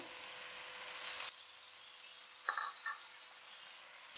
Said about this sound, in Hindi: अब इसमें हम डालेंगे अदरक लहसुन का पेस्ट, साथ ही ये कटे हुए टमाटर